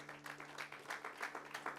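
Congregation applauding the Lord during a Spanish-language church service, a steady crackle of many hands clapping in a room, moderately loud with no speech over it.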